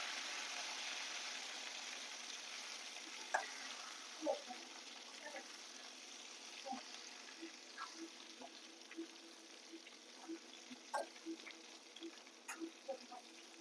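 Eggplant pieces frying in oil in a covered pan, being gently turned over: a soft, constant sizzle with scattered light clicks and scrapes of the spoon, fairly quiet.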